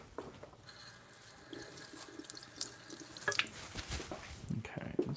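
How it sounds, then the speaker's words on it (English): Tap water runs into a kitchen sink while parsley is rinsed under it, a soft, steady splash that swells and shifts as the leaves are moved, fairly quiet and close. "Get my parsley a little wash here."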